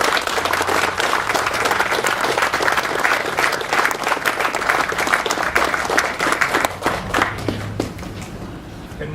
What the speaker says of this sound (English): give a large round of applause for our mayor of the city of Paterson, Mayor Jose Torres.